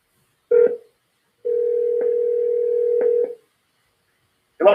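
Telephone tones while placing a call: a short beep, a pause, then a steady tone of about two seconds with faint clicks, ending in a brief burst of noise.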